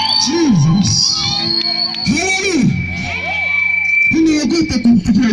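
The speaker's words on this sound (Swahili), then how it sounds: "Sikia shangwe na vigelegele." Crowd at an outdoor gospel gathering in Singida, Bahi, Dodoma, cheering with high ululating trills and shouts, loud and sustained throughout, with voices rising and falling in repeated bursts.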